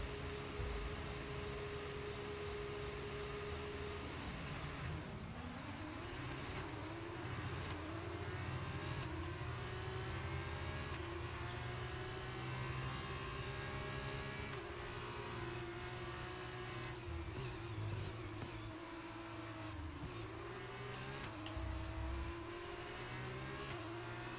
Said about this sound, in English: feed in the throttle. Let's build the revs.